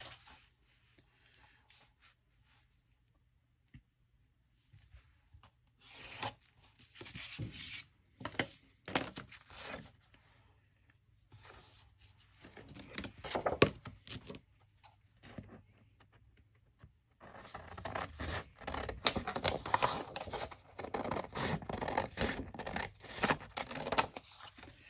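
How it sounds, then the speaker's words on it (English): Scissors cutting red cardstock to make a pocket at 3 inches, crisp snipping and sliding paper rustles in irregular bursts, close and clear, with quiet stretches between cuts and a denser run of cutting toward the end. "So let's cut it right at 3 inches."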